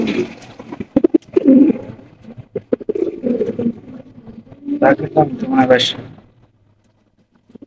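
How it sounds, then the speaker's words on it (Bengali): Pigeons coo in soft, throaty bursts near the listener, mixed with rustling and shuffling; the cooing repeats several times before fading out. "এখানে রয়েছে একজোড়া গোল্লা কবুতর মাশাআল্লাহ, দেখতেই পাচ্ছেন চমৎকার একজোড়া গোল্লা"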